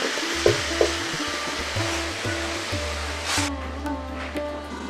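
Masala sautéing in a pan with tilapia and taro stolons gives a steady, broad sizzling hiss over a low hum, with a few soft knocks early on and the hiss thinning out near the end.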